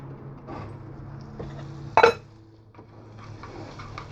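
Tuna noodle mixture with mushrooms, peas, onions, carrots and homemade white sauce is put onto a pan, marked by one sharp metallic clink of a utensil amid soft kitchen handling noises.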